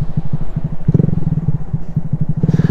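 A Honda Grom motorcycle with a loud M4 exhaust runs with a rapid, loud, low popping throb that surges in short bursts, riding on a busy street in cold weather; no voice is heard.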